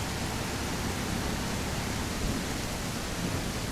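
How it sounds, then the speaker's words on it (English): Rain falling in the survival video game Mist Survival, a steady, even hiss of downpour with no breaks, moderately quiet and with no voices over it. "Because I can't hear so well in the rain."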